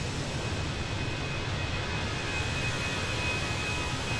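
Airbus A320 jet engines in Microsoft Flight Simulator just after takeoff, with the Fenix A320 climbing out of Cork, Ireland. A steady, loud, broadband roar holds with a faint high whine running through it and no talk.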